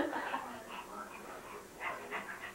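A puppy whimpers and yips in short, high, breathy bursts, close by and fairly soft, with a brief pause before a few more cries.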